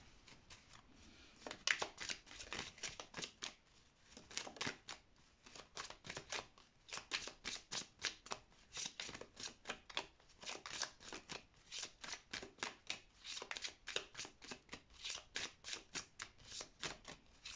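Quiet, close riffling and snapping of a Petit Lenormand card deck being shuffled, repeated bursts of card flicks in an uneven rhythm with no talking.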